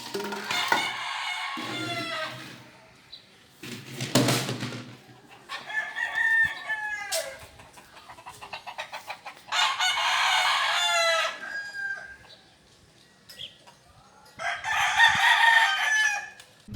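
A rooster crows several times in bursts, with hens clucking between calls; fairly close and loud, no talking, in the morning in Angeles City, Philippines.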